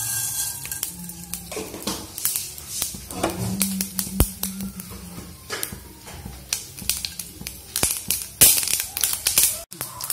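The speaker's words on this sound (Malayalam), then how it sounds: "കടുക് പൊട്ടി" Mustard seeds spluttering in hot coconut oil for a pumpkin-leaf thoran, a close, steady run of sharp crackles and pops over a low sizzle with no talk.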